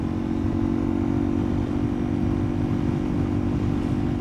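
Motorcycle engine droning steadily and loudly up close as the bike accelerates past another vehicle on a road ride, a continuous low rumble with no pauses.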